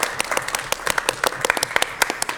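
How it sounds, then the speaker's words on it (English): Scattered, uneven clapping from a small group at a fire authority plenary meeting, with individual sharp claps close by, some cheering mixed in. "Hooray! Applause!"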